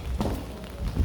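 Rain falling on a wet day at an outdoor spot in the Philippines, a steady broadband hiss of drops with small irregular spatters, fairly close and with no talk.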